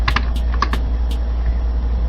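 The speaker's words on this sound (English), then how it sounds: "And you can hear the tank clicking as he turns." Combiner Wars Megatron toy in tank mode giving off a few sharp, light plastic clicks as its turret turns, bunched in the first second over a steady low hum, then going quiet.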